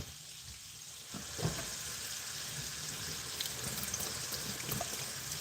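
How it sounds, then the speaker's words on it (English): Water runs from a kitchen tap while dishes are washed up, a steady hissing stream with a few small clinks, fairly quiet and heard alone. "let's wash up a little bit"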